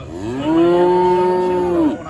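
Cattle at a regional fair heifer show, one loud close moo held steady for about a second and a half before trailing off, alone without talk.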